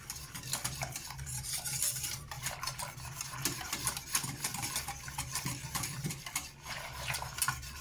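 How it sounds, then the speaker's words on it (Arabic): A spoon stirs hot chocolate thickened with cornstarch in a pot, steady scraping and swishing strokes close up, continuous and moderately quiet with no voices. "وانا نخلطو مليح هكذا كيما راكم تشوفوها"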